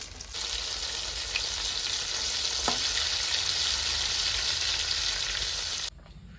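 Meat chops frying in a pan, a loud, steady hiss of sizzling oil that carries on evenly for several seconds, with one brief clink partway through, before cutting off abruptly.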